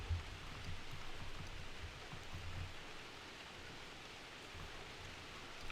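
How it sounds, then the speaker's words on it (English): Steady rain falling outdoors, a continuous even hiss with no breaks or voices, moderately soft and constant throughout. "It is still raining."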